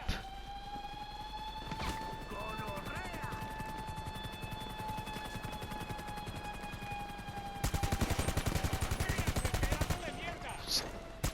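GTA V heist shootout: rapid bursts of automatic gunfire and scattered shots play under a steady wailing siren and helicopter drone, with a dense loud burst of fire near the end.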